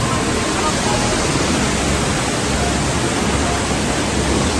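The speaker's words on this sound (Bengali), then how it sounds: "চারিদিকে পাহাড় এবং মধ্যিখানে এত সুন্দর একটা ঝর্ণা।" Hundru waterfall near Ranchi, set in a wide bowl ringed by hills, heard close up as a steady, loud, unbroken roar of rushing water that does not change for the whole stretch.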